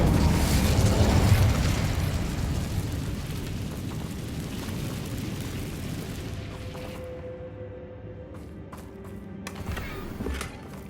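An Incendio fire spell bursts out in Hogwarts Legacy as a loud roaring blast that slowly fades into a crackling rumble, followed by a few faint clicks, with no voice over it.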